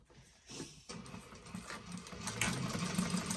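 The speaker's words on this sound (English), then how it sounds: "we are going to do all of our top stitching. So I am using a gray thread" A sewing machine top-stitches a leather bifold wallet with gray thread, starting with a short burst and then running steadily with a fast mechanical whir and rattle.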